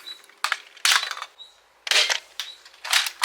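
Adventure Force Deuce Pro dart blaster fitted with a muzzle brake fires several sharp, close shots in an irregular rhythm, each a crisp broadband crack with a short rattling tail and brief quiet gaps between.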